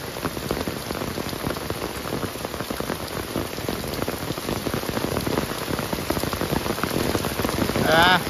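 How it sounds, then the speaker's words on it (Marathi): Heavy rain pours down steadily beside a flooded river, a dense, close patter drumming on surfaces without pause. "तुफान पाऊस"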